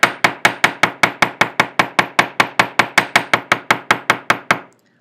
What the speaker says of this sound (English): you can also use the edge of the rivet hammer the same way